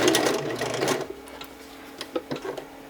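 A sewing machine backstitching at the end of a seam whirs in a fast stitching burst, then stops, leaving a few light clicks and taps.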